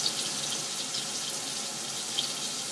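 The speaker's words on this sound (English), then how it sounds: "I literally just get my hand wet and I rub the parts of my face that I'm going to shave" Tap water runs steadily into a bathroom sink as hands are wetted before shaving, a continuous close hiss and splash with a few small drips, with no talking.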